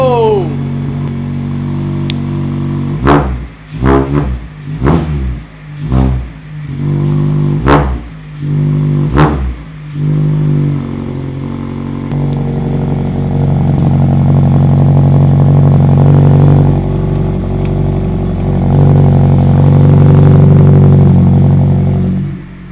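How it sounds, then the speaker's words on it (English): A loud Mazda MX-5 ND exhaust with the back box deleted revs in several sharp bursts, then settles into a deep, steady rumble that swells louder toward the end. "let's hear what this bad boy sounds like."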